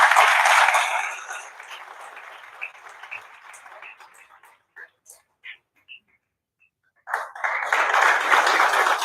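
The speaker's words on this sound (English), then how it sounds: "Let's welcome Ajay sir with a huge round of applause" An audience at a trade conference applauds to welcome a speaker: a dense burst of clapping at the start fades to a few scattered claps, then swells again near the end after a short quiet gap.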